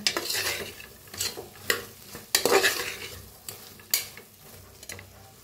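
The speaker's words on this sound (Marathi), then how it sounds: "तर आता छान मिक्स करून घेऊया. चांगलं भाजायचं बघा असं जरा मसाला." Masala with green chillies and coriander is stirred and roasted in a pan for soya rice, a spoon scraping in irregular strokes over a soft sizzle, close and fairly quiet with no talk.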